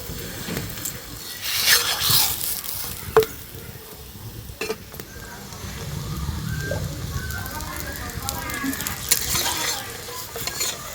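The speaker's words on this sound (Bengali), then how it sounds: "এটা কিন্তু এইভাবে ভেজে নিয়েছি তুলে নেব আবারও একটা ওইভাবে ভেজে নেব" A mango-stuffed paratha fries in a pan, heard as an uneven, moderate sizzle broken by scraping stirs, spatula taps and clinks of cookware at close range, with no clear speech.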